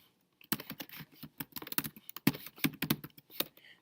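A lesson title typed on a computer keyboard: quick, uneven bursts of close, crisp keystrokes following a short silence, with no speech.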